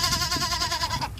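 A goat in a village bleats in one long, wavering cry that is close and clear and fades out at the end.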